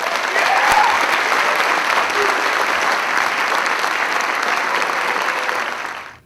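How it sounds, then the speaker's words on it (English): A dense, loud wave of sustained applause from a crowd at a ceremony for newly inducted NCOs, rolling evenly for several seconds before it drops away at the end. "Please give a round of applause to the newly inducted NCOs."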